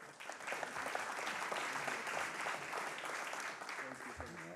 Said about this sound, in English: How about a round of applause for this guy?